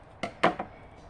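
Three quick, crisp snips of scissors cutting string in close succession, the middle one loudest, in an otherwise quiet room.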